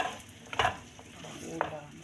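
Potatoes and carrots stirred in a pan for ginisang patatas, with a low frying sizzle and a couple of short scraping stirs, close and fairly quiet.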